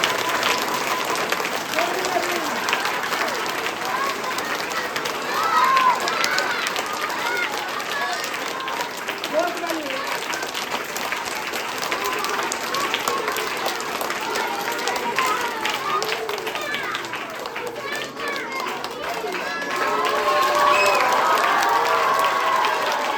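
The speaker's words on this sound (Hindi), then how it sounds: "आप लोग जितनी ज्यादा ताली बजाओ बेटे हम उतने आपको ज्यादा" Children in an audience clap steadily at a magic show, sustained applause and excited crowd noise running throughout, while a magician talks over it.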